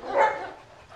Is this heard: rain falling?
no